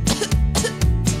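A few sharp, breathy coughs in quick succession, close and fairly loud, with brief pauses between bursts.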